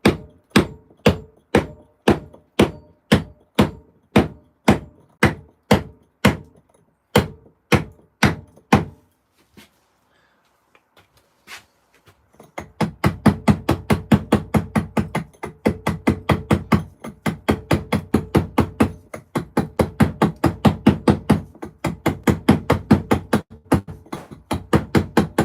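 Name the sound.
chiseling stone, using a stone found in the yard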